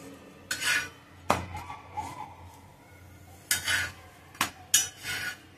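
A spatula presses maize roti (makki ki roti) on a hot pan, making several separate scraping and clanking strokes of metal on metal, fairly close, with short pauses between them.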